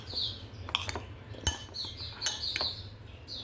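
Salt being stirred into a mixture in a bowl for a Filipino tortang sitaw and talong: a few sharp spoon clinks against the bowl amid soft scraping, close and fairly quiet.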